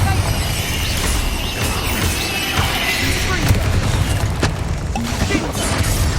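Confringo fire-blast spell cast in Hogwarts Legacy, a dense, loud stretch of booming impacts and crackling bursts over continuous battle noise, with a spoken spell incantation mixed in.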